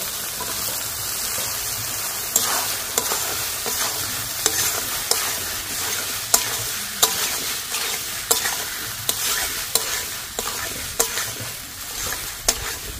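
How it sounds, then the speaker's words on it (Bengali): Boiled vegetables are stirred into a sizzling pan for chicken fried rice. A spatula scrapes and clinks against the metal in a steady rhythm over a constant frying hiss, close and fairly loud. "সিদ্ধ করে রাখা সবজিগুলো দিয়ে দিচ্ছি এবারে।"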